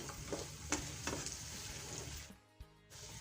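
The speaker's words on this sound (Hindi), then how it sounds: "इन दोनों को मैं फ्राई कर लूँगी।" Peas and carrots fry in a pan for Chinese rice, with a moderate sizzle broken by a few sharp scraping stirs before it fades and a single knock is heard.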